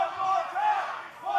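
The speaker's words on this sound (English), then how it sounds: "You can hear the crowd, the bloodlust in the crowd chanting one more time." Wrestling crowd at a live OVW show chanting in unison, a loud, dense mass of voices rising and falling in rhythmic waves with no single speaker standing out.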